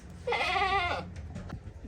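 A goat bleats once, a short wavering cry close by in a village yard, followed by faint scuffling and background noise.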